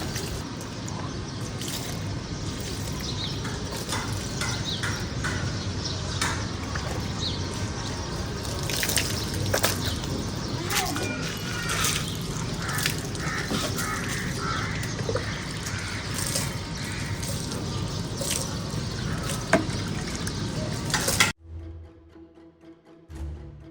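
Water splashes and drips steadily while a car interior is washed by hand, close and continuous, with crows cawing in the background, ending abruptly.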